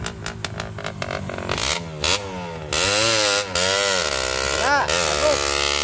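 A weak, rough-running motorcycle engine chugs and revs unevenly, its pitch rising and falling with loud sputtering bursts and brief drops, while people talk over it.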